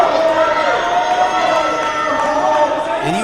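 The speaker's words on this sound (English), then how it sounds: "hear how crazy this crowd is for Will Allday" A wrestling crowd roars and cheers continuously at a televised pro wrestling show, a dense, loud wash of voices filling the arena from start to finish.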